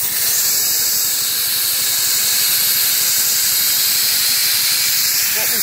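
A handheld soda blaster sprays soda media onto a wooden leg, giving a loud, continuous close hiss over a rapid pulsing compressor throb that stays steady for the whole stretch.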